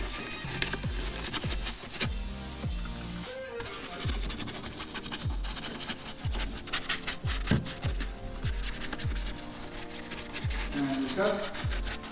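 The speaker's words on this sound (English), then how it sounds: "we apply and we just gently start agitating it, working it in onto all the nooks and crannies" A detailing brush scrubs product into the nooks and crannies of a car's surfaces to lift embedded dust and dirt. The close, continuous rubbing runs in repeated strokes while a faint voice talks in the background.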